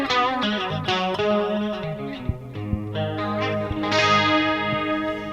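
Electric guitar on a clean tone through a chorus effect, with an AC30-style Plexi preamp, played as ringing chords and single notes with a shimmering, slightly doubled wash, fairly quiet and without talk.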